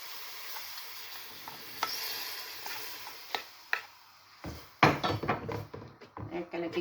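A cheese and cream sauce for pasta is stirred in a pan, with a soft background sizzle, scattered utensil taps, then a busier run of scraping and clinking strokes near the end, fairly quiet overall.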